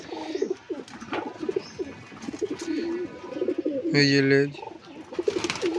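A male Kagji pigeon coos in low rolling bursts close by, while someone talks over the calls for much of the time.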